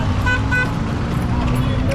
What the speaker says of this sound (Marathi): खूपच ट्रॅफिक आहे